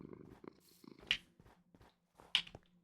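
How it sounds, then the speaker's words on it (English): A cat purrs softly in short quiet bursts, close by and faint, with a few brief sharp clicks and rustles around it and no talking. "Cat starts to purr."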